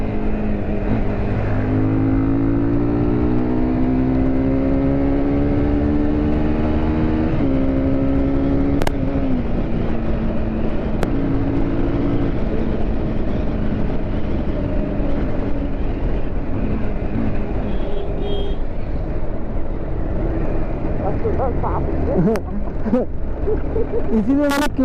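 A Honda CBR 250R motorcycle rides through city streets, its engine a loud steady drone with rising and falling pitch as it accelerates and shifts, constant wind and road noise throughout, with occasional talk over it.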